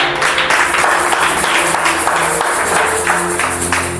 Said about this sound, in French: Est-ce qu'on peut acclamer la parole du Seigneur pendant qu'on reprend nos places?